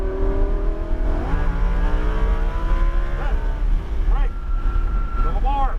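A Lamborghini Huracan LP 610-4 engine runs loud and steady on a race track, its pitch climbing through gears with shifts, while an instructor talks over the engine throughout.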